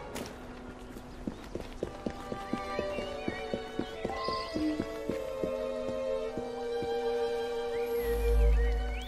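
A horse's hooves clip-clop at a walking pace in Assassin's Creed Syndicate, a sharp regular beat near and clear, with a brief neigh and a soft low thump toward the end.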